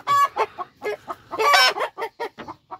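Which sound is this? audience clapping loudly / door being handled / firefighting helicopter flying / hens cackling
hens cackling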